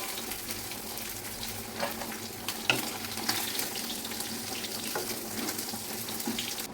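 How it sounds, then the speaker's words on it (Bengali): Small chuno fish frying in oil, a continuous sizzle blended with running tap water and a few sharp clinks. "দেখো আমার মাছ প্রায় ভাজা হয়ে গিয়েছে।"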